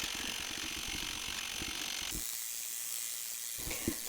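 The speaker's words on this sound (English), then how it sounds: "the next thing it's going to do is to stitch the white outline of the gingerbread ornament" A Brother embroidery machine stitches the white outline of a gingerbread ornament, its needle making a fast, steady mechanical clatter of repeated ticks that drops away partway through before a brief return near the end.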